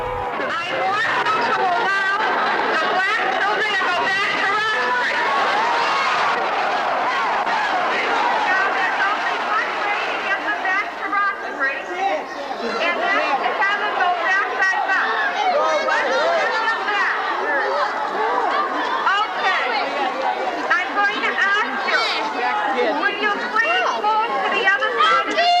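Large crowd of protesters outside a Boston school during the busing crisis, a continuous roar of shouting and chatter from many voices, loud and dense with no pauses.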